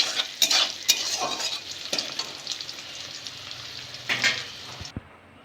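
Salted onions sizzle in a pan for hilsa fish-head taro greens, with repeated stirring strokes and light utensil clinks over a continuous crackle that eases off near the end.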